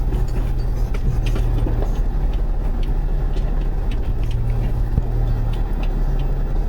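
A 6th-generation Toyota 4Runner TRD Pro in 4-low crawls along while pulling a trailer, its low engine drone and road rumble steady and continuous, with faint clicks and knocks from the terrain.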